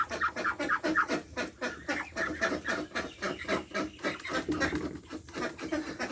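Chinese ducks on a farm quack and chatter steadily in a dense, overlapping flock, moderately loud and nearby, with no talk.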